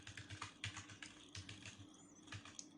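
Someone is typing on a computer keyboard, producing quick, irregular, soft keystroke clicks in short runs with brief pauses, quiet and close.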